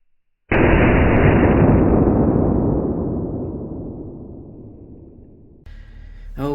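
A blank gun fires a 6mm aluminium BB at plastic water bottles: one sharp, loud report from close range, then a long reverberant boom that fades gradually, followed by a brief rustle at the end.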